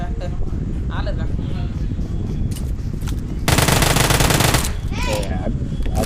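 Gunfire in the battle royale game PUBG Mobile, with scattered shots and then a dense, loud burst of automatic fire lasting about a second, while players talk throughout.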